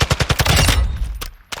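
Automatic weapon fire in Warzone 2 with the trigger held down, a rapid rhythmic burst of loud close shots that merges into a sustained roar, then stops, followed by one more short crack near the end.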